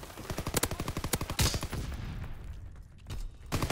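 Gunfire in the video game Call of Duty WW2: a rapid, evenly spaced string of automatic shots, then a heavier blast that decays into quiet, followed by further loud shots.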